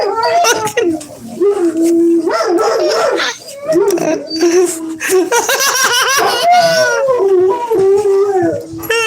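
A pet dog howls in long, wavering, rising and falling cries, loud and close, mixed with people laughing and talking over it.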